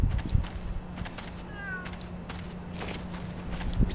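Cat meowing in the video game Yakuza 6, a single short meow mid-way, faint and thin against a low steady game hum with scattered clicks.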